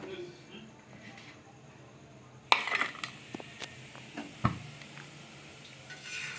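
A cooking pan for frying fish is set down on a home stove with a sharp metallic clank, followed by a few more clatters and scrapes while someone talks nearby.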